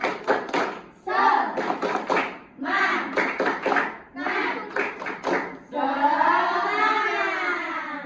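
A class of children in an Indonesian school claps the rhythmic 'tepuk semangat' pattern in quick bursts and pauses, with young voices chanting along throughout, close and fairly loud.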